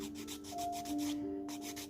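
Short rubbing strokes of sandpaper or a file smoothing a homemade ergonomic crochet hook handle, a soft repeated scratchy rasp up close, with a faint tonal hum beneath.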